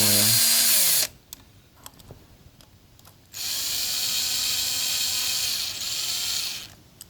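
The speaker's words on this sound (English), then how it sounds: "So next we're going to Get the 2 screws out." Screws being removed from an Echo TC 2100 string trimmer during a rebuild: loud bursts of a power driver whirring at the start and through the second half, with quieter clicks and ratcheting between.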